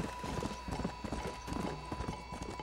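Horse hooves clip-clop steadily in the Red Dead Redemption Undead Nightmare video game, a close, continuous rhythmic trot over a bed of game ambience and music, with a faint whinny.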